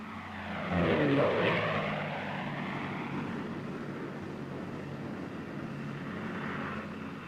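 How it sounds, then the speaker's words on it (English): A propeller-driven WWII fighter plane diving at speed, its engine held near 3,000 RPM, rises to a loud sweeping roar with a Doppler-like pitch shift, then settles into a steady, slightly distant drone. "Plane gains speed extremely fast in a dive."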